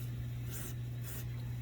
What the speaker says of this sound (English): I'm going to go ahead and spray this down too.